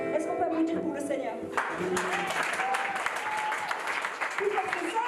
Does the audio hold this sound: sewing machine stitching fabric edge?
no